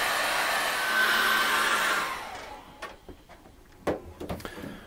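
A hair dryer drying acrylic paint on a canvas blows with a steady whooshing hiss for about two seconds, then shuts off, followed by a few faint taps and clicks.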